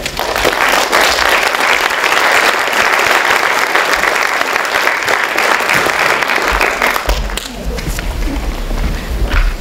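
A lecture hall audience gives loud, sustained applause to welcome a professor to an annual lecture on feminism. Dense clapping fills most of the stretch, then thins out near the end.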